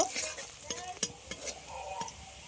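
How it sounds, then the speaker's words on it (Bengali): Onions frying in a pan after dried red chillies, for a home-style masoor dal and chicken curry, with soft sizzling under repeated scraping stirs of a spatula against the pan, close and fairly quiet. "পেঁয়াজটা একটু লাল লাল করে ভাজা করে নেব"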